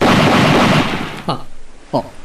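A loud, dense blast fills the first second and a quarter and then decays, followed by two short sharp pops about half a second apart, heard within an Ilocano-language drama.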